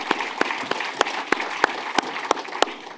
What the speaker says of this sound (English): Just like to have a round of applause for Neil as well for expertly chairing that panel for us.